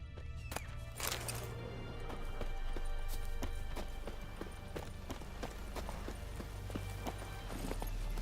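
Roach the horse gallops in The Witcher 3, with rapid, steady hoofbeats clopping up close over ambient game sound and a brief whinny near the start.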